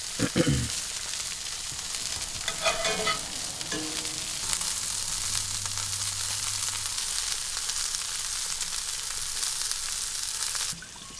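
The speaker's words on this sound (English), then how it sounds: "I let the broccolini cook up a little bit before putting the mushrooms in" Broccolini sizzles steadily in a hot pan in a truck camper, a constant crackling hiss, with a few clatters of utensils and a brief low hum partway through.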